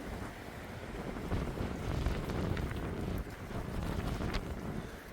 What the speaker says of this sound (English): not with this wind